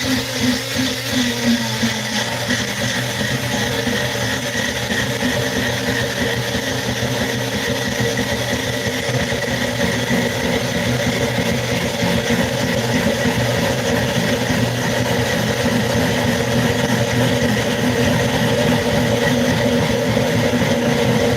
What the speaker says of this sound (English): So we're going to blend this up.